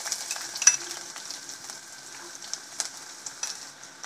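Finely chopped garlic sizzles in hot oil in a pan, a soft steady crackle with scattered sharper pops, close and alone.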